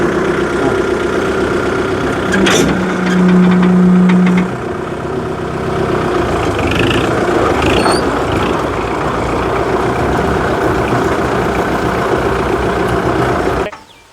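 A farm utility vehicle with an open load bed stands idling, its engine chugging steadily and loudly close by for the whole stretch before cutting off abruptly at the end.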